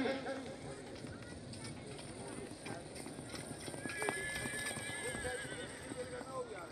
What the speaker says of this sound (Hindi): घोड़ा शाहकार